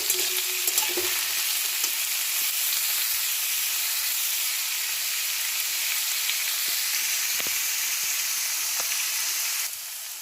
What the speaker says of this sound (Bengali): আলুটা দিয়ে একটু ভেজে ভেজে নিচ্ছি